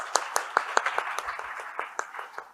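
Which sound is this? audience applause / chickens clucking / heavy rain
audience applause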